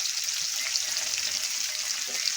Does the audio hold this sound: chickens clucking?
no